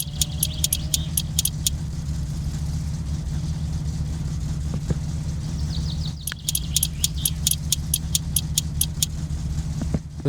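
Car engine idling in the driving game My Summer Car, a steady low rumble running throughout with light mechanical patter and clicks on top.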